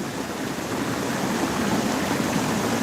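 Mountain valley stream below Byeoksoryeong shelter on Jirisan, rushing water filling the air as a steady, dense broadband roar, close and loud with no voices.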